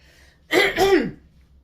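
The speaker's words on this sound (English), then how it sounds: "again, clearing my throat" A person clears their throat twice in quick succession, close and fairly loud, with quiet between.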